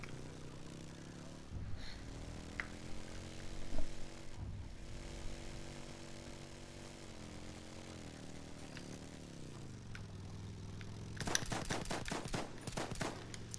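Video game gunfire: a steady mechanical hum runs under the whole stretch, then a burst of rapid automatic shots rattles loudly near the end, with one or two isolated reports earlier.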